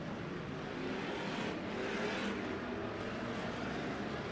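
Race cars at Bakersfield Speedway roar around the oval in a steady, distant engine wash, with a swelling pass midway and no voices over it.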